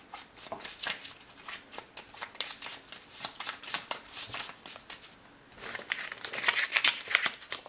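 Oracle connection cards being shuffled by hand, a steady run of crisp riffling flicks repeating close up for several seconds, with a brief pause before more shuffling.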